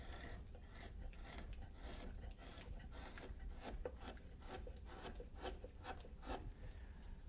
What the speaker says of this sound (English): just use a gouge, number 2 or number 5, something that doesn't take out too big a bite,